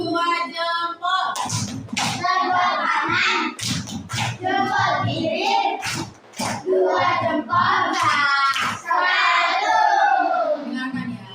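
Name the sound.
children doing a 'two thumbs' clap pattern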